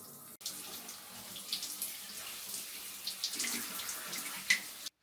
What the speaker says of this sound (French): je mets l'eau à chauffer parce que j'ai pas envie de prendre une douche froide